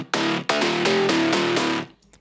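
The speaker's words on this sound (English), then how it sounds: "the melody bass line kind of changes a little bit" A dark house track melody bass line shifts through a one-bar change, with a synth bass playing a run of sustained, evenly spaced notes that steps in pitch before cutting off, clear and alone.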